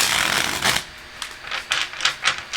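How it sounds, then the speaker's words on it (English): Tarot cards are shuffled in quick riffling bursts, a long rustle followed by several short crisp flutters, close and fairly loud. "How many more shuffles, Athena?"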